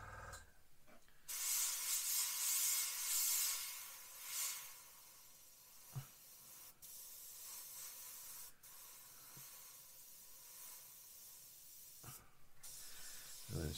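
A Gaahleri GHAC 98D airbrush sprays paint in freehand camouflage work, a steady airy hiss that runs for most of the stretch, broken by a few brief pauses and small clicks.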